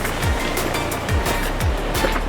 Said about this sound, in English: the river, you can see there behind me, that we've been hiking by, actually feeds into the Amazon River